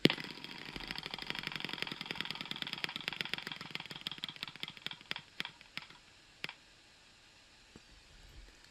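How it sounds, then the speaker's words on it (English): A classroom spinner wheel whirs through a dense run of rapid clicks that gradually slow and space out, ending in a few last isolated ticks before it comes to rest. "We're going to spin the spinner"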